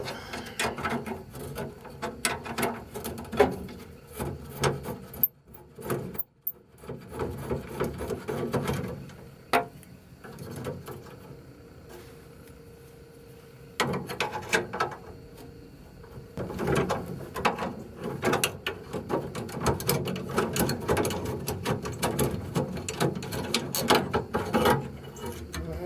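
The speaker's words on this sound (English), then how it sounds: "take my 7/16 wrench and loosen the two bolts of the handle" A 7/16 wrench loosens the two bolts on a 1956 Ford cowl vent handle, making intermittent close metallic ratcheting clicks and scrapes that run in bursts with short pauses and no voices.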